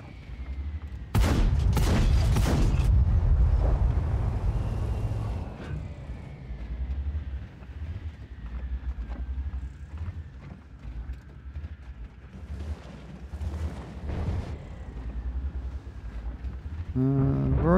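A tank gun fires in a Char Mle. 75 tank video game with a loud, sharp blast followed by a rumbling report. A lower mechanical rumble and scattered impacts continue afterward.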